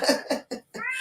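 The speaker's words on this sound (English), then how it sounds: "No, that's the cat." A pet cat lets out a run of loud, close meows, three quick drawn-out cries and then a longer one, sounding almost like a human voice.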